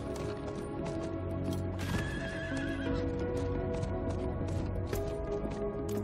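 Horse riding in the Diablo IV video game: steady clip-clop hoofbeats with neighs and whinnies over constant game music and ambience, loud and continuous throughout.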